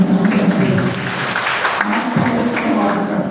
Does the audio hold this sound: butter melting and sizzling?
no